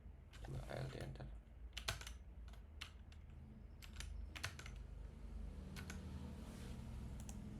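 Keys clatter on a computer keyboard during a coding session, coming in irregular bursts of clicks and taps at close range over low background hum, with faint speech in places.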